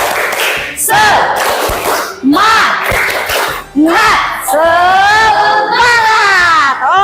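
Classroom of students doing a rhythmic spirit clap, with sharp claps and shouted chanting in bursts, ending in a long loud collective cheer; close, loud and energetic.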